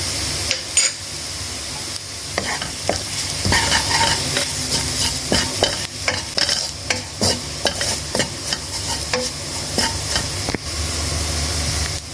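Onion and flour fried together in a pan, with a loud steady sizzle broken by frequent scraping stir strokes of a utensil, close up and without any voices.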